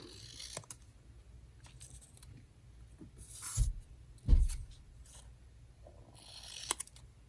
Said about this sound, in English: So I cut this little scrap ribbon here